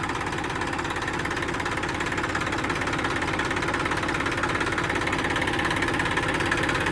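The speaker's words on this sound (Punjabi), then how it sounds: "ਆਵਾਜ਼ ਚੈੱਕ ਕਰੋ ਟਰੈਕਟਰ ਦੀ ਬਹੁਤ ਵਧੀਆ ਸਟਾਰਟਿੰਗ ਆ" A Massey Ferguson 241 tractor's diesel engine idles steadily up close, a continuous low rumble with a fast, even knocking beat and no voices.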